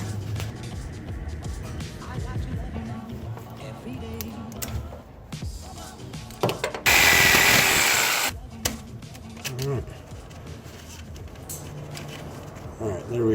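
A jigsaw cuts briefly during a short shifter and solid bushing install on a 2JZ-swapped Honda Civic. It gives one loud, harsh burst of about a second and a half amid quieter workshop clatter.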